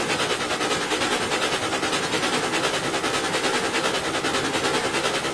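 A locomotive runs along the track with a loud, continuous rushing rumble and a fast, steady rhythmic pulse of wheels and running gear, close by and without voices.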